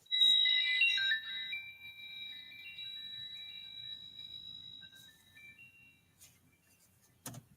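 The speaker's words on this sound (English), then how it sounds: "So there's different little bells ringing." Little bells on a vintage toy chime with bright, ringing tones that start clear and fade away over several seconds, ending in a faint clunk.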